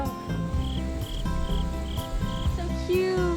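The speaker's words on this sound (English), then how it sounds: "There's crickets everywhere." Crickets chirp in short, evenly spaced pulses against a faint background, with soft voices nearby.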